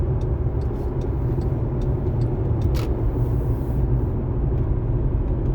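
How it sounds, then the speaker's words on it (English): Road traffic passes in a continuous low engine rumble, with a brief hiss of air brakes partway through and faint clicks above the steady drone. "Sorry, there's traffic."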